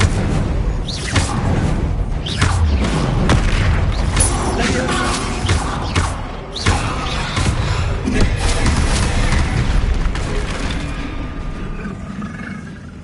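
Incendio fire spells cast over and over in Hogwarts Legacy, heard as loud bursts and booming thumps in a dense, continuous stream of game effects.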